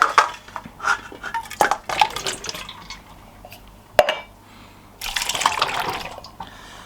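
Liquid draining from a tin of new potatoes, with irregular splashing and trickling bursts and a few metallic clinks of the can, close and moderately quiet.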